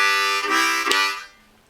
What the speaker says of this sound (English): let's try that chugging pattern one more time